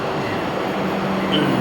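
A Vande Bharat train rumbles steadily close by at a station platform, a continuous low mechanical drone with a faint high squeal near the end.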